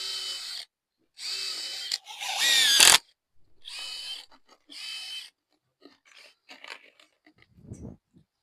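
Cordless power drill driving screws into a snow-shelter panel in short bursts, each whir lasting about a second, the longest run ending with a rising strain, then scattered clicks and handling noise nearby.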